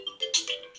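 An incoming-call ringtone chimes from a tiny Remax 64GB voice recorder that works as a phone: a short, bright, melodic electronic tune of a few quick rising notes, close and clear with no talking.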